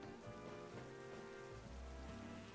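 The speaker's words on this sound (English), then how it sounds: "Is that rain?" Rain falls steadily in Pokémon Legends Z-A on Switch 2, a soft continuous patter over a low background game soundtrack, quiet and even throughout with no voices.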